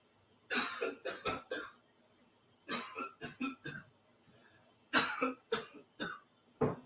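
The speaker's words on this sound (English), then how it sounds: "I was coughing 3 times" A person coughs in three separate bursts of several sharp hacks each, with short quiet gaps between them, close and fairly loud with no speech.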